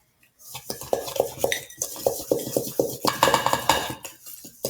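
A utensil scrapes softened butter and sugar around a mixing bowl in quick repeated strokes, with clinking and scraping against the bowl's sides, close and fairly loud with no talk.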